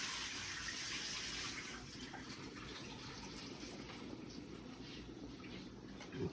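Water pours off cooked, cold-shocked dry noodles in a kitchen, a continuous close splashing gush that eases slightly after the first second and then runs steadily.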